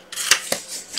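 Scissors snip paper card for a handmade wedding card, two quick close cuts within a second.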